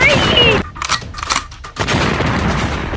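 Rapid bursts of gunfire ring out in a zombie-and-dinosaur video game, loud bangs clustered in the first moments and again near the end, with short dips between volleys and no speech.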